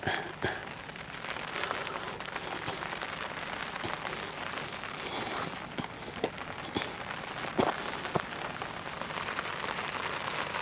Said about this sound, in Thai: ฝนตกแล้วฝนไล่แล้วครับ